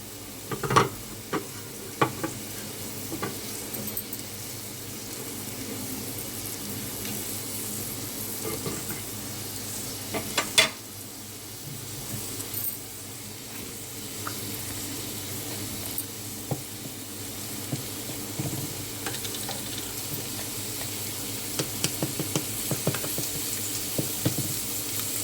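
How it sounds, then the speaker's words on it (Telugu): Onions and curry leaves fry in a pan with a steady low sizzle while a utensil stirs and scrapes now and then, making sharp intermittent clicks, close by and with no talking, as part of cooking a fish curry. "ఉల్లిపాయలు కొంచెం ఎర్రగా వేగాలి."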